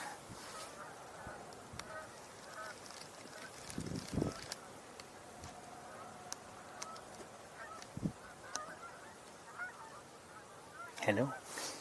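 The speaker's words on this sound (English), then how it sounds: "Sound like Canada geese to me." Canada geese honk outdoors, with a few scattered calls at a distance and a louder burst near the end, over faint wind and background noise.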